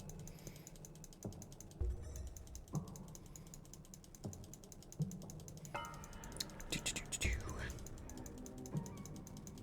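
A mouse button is clicked over and over in uneven bursts, with sharp close clicks standing out over a steady background hum and some busier clatter midway.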